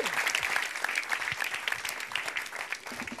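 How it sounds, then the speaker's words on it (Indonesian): A studio audience at a televised stand-up comedy competition claps in sustained, dense applause, loud and steady throughout with a few scattered cheers. "Silakan tepuk tangan lagi."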